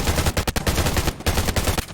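Rapid bursts of automatic gunfire from the game Undawn crackle loudly and continuously, with short gaps between volleys.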